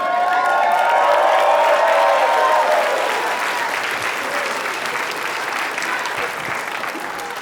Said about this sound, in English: What are we clapping for?